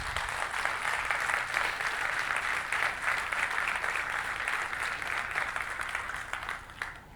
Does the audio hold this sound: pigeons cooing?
no